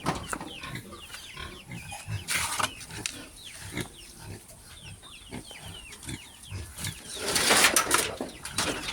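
A tethered native boar grunts and snorts in a farm pen, giving irregular short bursts close by, with birds and poultry calling in the background.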